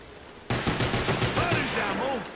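Rapid bursts of gunfire in the Black Ops Zombies map Der Riese erupt suddenly and continue loud and dense for about two seconds, with game effects layered over it.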